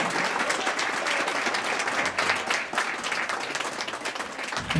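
Audience applause for the winners of the speed trial at a Working Equitation horse event in Cuzdrioara, Cluj, steady dense clapping throughout with a slight swell at the end.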